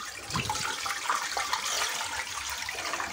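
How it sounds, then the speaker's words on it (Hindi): Running water splashes and gurgles steadily as it is poured over raw chicken in a container, close and continuous for a few seconds. "सबसे पहले आप चिकन में पानी डाल दीजिए"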